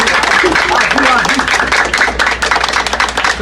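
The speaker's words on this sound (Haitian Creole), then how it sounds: "Battez petit bravo pour ça" Audience applause, a dense patter of many hands clapping together, runs steadily under a man's continuous speech.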